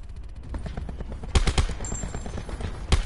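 Bursts of MP40 submachine gun fire in a Call of Duty-style Alcatraz quads match, rapid loud volleys with sharp cracks mixed with other game sounds and distant shots.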